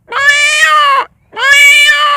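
A man imitates a peacock's call with his voice, two long, loud, wailing cries separated by a short pause, with no talking.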